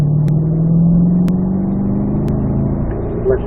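A Corvette engine revs steadily as the car accelerates on a racetrack at a performance driving school, its drone rising in pitch, loud and close with faint clicks over it and no talking.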